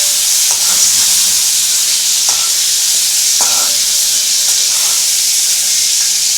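Prawns (chingri) fry briefly in hot oil in a pan: a steady, close sizzle and hiss runs throughout, broken by a few soft stirring scrapes.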